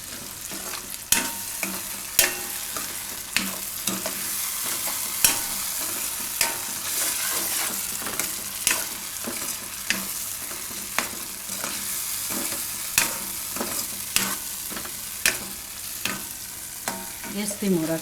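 Broccoli sizzles in a pan with added cashew paste, a steady frying hiss broken by regular clacks of the stirring spoon against the pan, close and continuous without talk.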